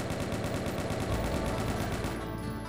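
Chaingunner enemies firing in a Doom-like game, a continuous rattling stream of rapid shots at an even rhythm, steady and loud, tapering off near the end.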